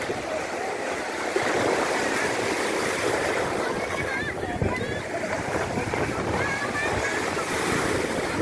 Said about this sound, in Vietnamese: Buổi chiều này sóng lớn quá.